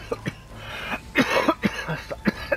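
A character in the video game Days Gone coughs in a rapid, harsh series of close, loud hacking bursts with a bit of throat clearing, several coughs packed into a couple of seconds.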